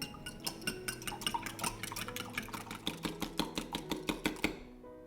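Egg being whisked into milk in a bowl for black tea scones, a quick, continuous clatter of utensil against the bowl with a light rhythmic ticking, close and moderately quiet, ending abruptly.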